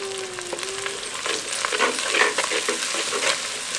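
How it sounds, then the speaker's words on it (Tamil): Onions sizzle steadily in a hot pan with ginger garlic paste, with a constant close hiss and light scraping from stirring, and no talking. "வெங்காயம் நல்லா வதங்கின பிறகு அரைச்சு வச்சிருந்த 1 தேக்கரண்டி இஞ்சி பூண்டு விழுத சேர்த்துக்குவோம்"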